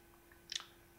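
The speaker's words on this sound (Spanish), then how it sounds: "seleccionamos haciendo doble clic" Computer mouse double-clicked while editing text in Photoshop: two quick, faint, close clicks in rapid succession in an otherwise quiet room.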